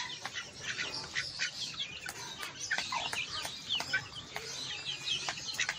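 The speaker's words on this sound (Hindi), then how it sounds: "मुर्गी कुड़क पे बैठी है जी माशाल्लाह से।" Broody hen clucking repeatedly on a farm, a steady run of close, moderately loud clucks with chirpy bird calls mixed in and no talking.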